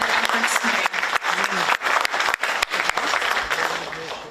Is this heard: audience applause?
yes